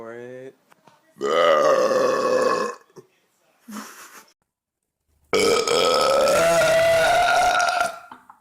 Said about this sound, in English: I'm about to belch. Wait for it.